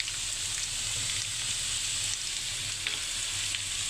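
Carrots fry in a pan over a high flame, giving a steady, loud sizzle with soft crackles throughout and a low rumble beneath, with no one talking.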